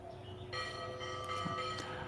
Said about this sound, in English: that's the Prasad bell.